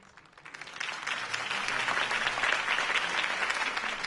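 A video game crowd breaks into applause after a campaign speech, swelling quickly from a light patter into steady, dense clapping and cheering that carries on alone.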